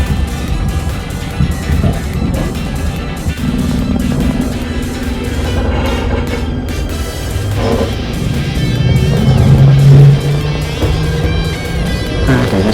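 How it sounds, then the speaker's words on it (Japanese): A limited express train, the special Kirakira Ashikaga Illumination service, pulls out of Oyama Station with a loud, steady rumble and a motor whine that climbs in pitch as it picks up speed; no one speaks. "というわけで列車は小山駅を出発していきます。"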